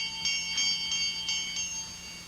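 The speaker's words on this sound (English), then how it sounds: "I'm trying to see where that bell came from" A small bell in a radio drama rings in a quick series of faint, bright tinkles, about five short bursts over a low steady background hum.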